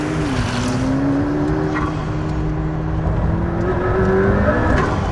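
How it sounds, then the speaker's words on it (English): A McLaren P1 accelerates hard along a Welsh mountain road, its engine note climbing steadily in pitch and holding loud and close throughout, with no voices over it. "here is just a little burst of what it feels like to slightly nail it in a McLaren P1 over a beautiful Welsh mountain road"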